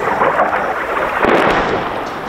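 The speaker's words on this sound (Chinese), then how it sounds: "炮击声日夜不停" Artillery shelling in Ukraine rumbles as a continuous loud, dense wash of booms and crackling bursts, with no talk over it.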